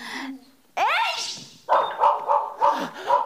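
Small dog in a video game giving a quick yip and then a run of short rhythmic barks, close and fairly loud, with game voices around it.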